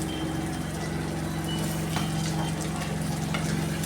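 Beef sizzles steadily in a pan with curry leaves for a Kerala-style fry, a dense, continuous crackle heard close up with no talking.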